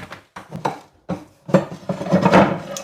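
A big frying pan is handled in a kitchen: a run of sharp metallic knocks and scrapes, close and fairly loud, with clatter like cookware and utensils bumping together and building into denser rattling toward the end.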